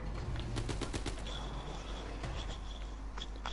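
MG15 machine gun firing in Call of Duty WW2 Zombies, a fast burst of loud rapid shots in the first second and a half, then scattered sharper game effects over a steady background rumble.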